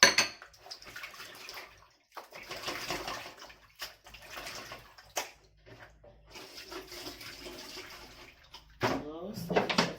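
Water runs from a tap over food being rinsed in a kitchen sink while breaded chicken panne is prepared, splashing in uneven bursts with clinks of dishes, and someone talks throughout.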